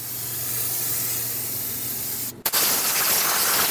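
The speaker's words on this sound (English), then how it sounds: "Once you're done cleaning it, use brake parts cleaner to rinse it down." Brake parts cleaner hisses in a strong, steady spray onto a cleaned rear brake hub of a Dodge Durango. It cuts off briefly near the end, then bursts out again loud and close.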